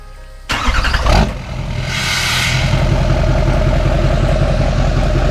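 An LML Duramax diesel pickup engine turns over and settles into a steady, loud idle after a brief start-up burst, a continuous low rumble close by with no talking.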